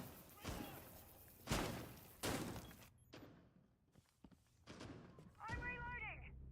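Amaru shotgun blasts fired from below in Rainbow Six Siege, a few loud booming shots spaced about a second apart, then quieter thuds, with a brief voice near the end.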